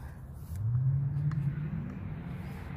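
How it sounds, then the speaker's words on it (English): Distant drifting cars rev and whine in a steady rumble near a cemetery, a higher engine tone rising and holding for a few seconds before fading back into low noise. "I don't know if you guys can hear the cars. They're drifting."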